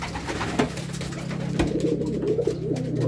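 A racing pigeon at a derby in Cavite coos close by, with a few soft, low, rolling coos over a steady background hum.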